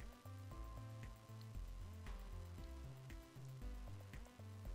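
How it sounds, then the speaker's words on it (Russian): Beef brizoli fry in a pan over medium heat, giving a steady faint sizzle beneath background music. "Вот таким образом я жарю все бризоли."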